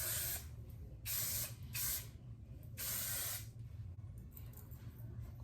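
A hair product is sprayed onto curls in four short hissing bursts, close to the microphone, with quiet pauses between them.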